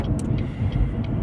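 Steady low road rumble and engine drone fill the cabin of a moving car, constant and close with no talking.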